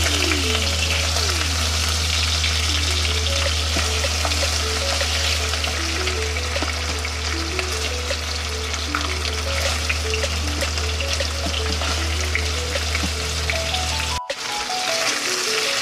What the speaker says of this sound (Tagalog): pwede natin ibalik yung beef natin. So, fry din natin yung beef natin